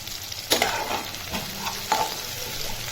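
Garlic and tomato fry in oil in a pan for Maggi noodles, giving a steady close sizzle broken by a few louder stirring scrapes on a rainy day home cooking session.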